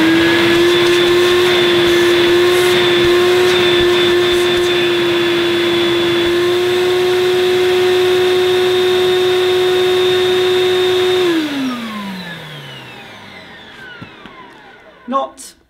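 A new-in-box 1980s Hoover Sprint 100 canister vacuum cleaner runs with a steady, loud motor whine at bare suction, then switches off and winds down with a falling pitch.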